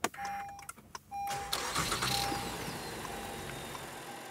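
An Acura car engine starts up, then settles into a steady, fairly quiet idle heard close by, with a few mechanical clicks before it catches.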